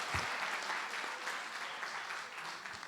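A church congregation applauds, a full, steady round of clapping from many people in a large hall that lasts throughout without fading.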